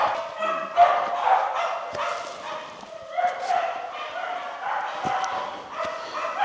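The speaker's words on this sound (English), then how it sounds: "Very noisy dogs" Several dogs bark and yip noisily, overlapping one another in a reverberant space.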